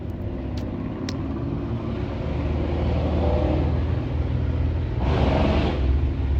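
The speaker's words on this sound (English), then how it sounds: "just in case if you guys are hearing cars and stuff like that," Cars pass along a road outdoors, a continuous low traffic rumble with one vehicle revving louder near the end.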